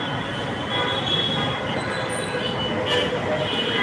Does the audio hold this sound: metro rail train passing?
yes